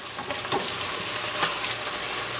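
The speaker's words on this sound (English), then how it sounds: "we're gonna wait let the garlic become little brown." Garlic frying in a pan, a steady close sizzle with faint crackles and occasional stirring scrapes, with no voices over it.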